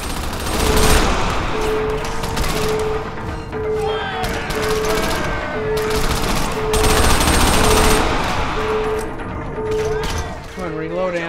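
Rapid gunfire bursts from the Crackdown video game, sustained and loud throughout with steady repeated shots, mixed with game effects and talk.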